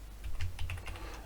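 Quick keystrokes on a computer keyboard in Visual Studio 2017, a handful of soft, close clicks in an uneven burst, faint and alone over a low hum.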